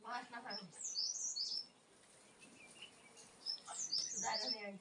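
Sparrows chirp in a village garden in the Uttarakhand hills, quick high chirps in two clusters separated by a quieter gap, with someone talking over part of it.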